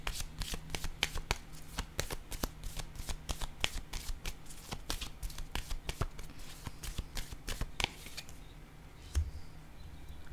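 Tarot cards are shuffled in a quick, continuous run of crisp riffling slaps, fairly quiet and close, with no voices over it.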